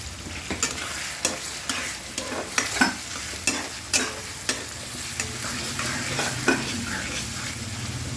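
Capsicum vangibath masala with tomato, turmeric and salt fries in a pan under regular stirring, with sharp spoon scrapes and taps recurring about once a second over a continuous close sizzle.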